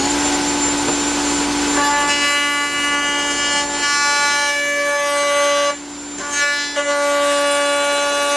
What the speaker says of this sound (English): the bandsaw makes quick work of this